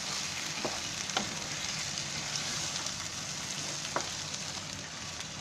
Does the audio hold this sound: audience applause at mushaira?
no